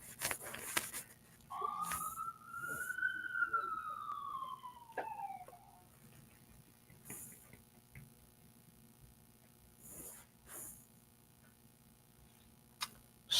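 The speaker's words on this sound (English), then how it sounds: "Sirens, sirens, sirens." A police siren wails once, rising and then falling in pitch, fairly faint and distant, with scattered clicks and ticks around it.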